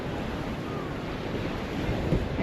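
Strong sea waves sloshing and churning around a small boat stuck in the sand off the Jamaican coast, a continuous close rushing wash mixed with wind buffeting the microphone.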